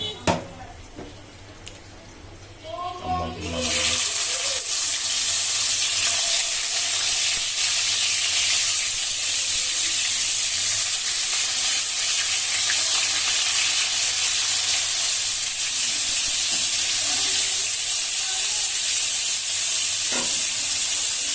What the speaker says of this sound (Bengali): মাছটা সুন্দর মতো ভেজে নিতে হবে।